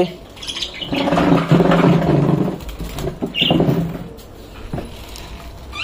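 Several small pet birds chirp and tweet close by over a rustling, noisy background, with short bursts of calls coming and going.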